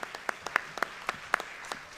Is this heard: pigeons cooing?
no